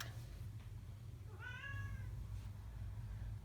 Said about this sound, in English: hello Nero, that's the shop cat.